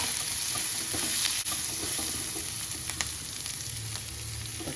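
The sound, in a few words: curry leaves and onions sautéing in oil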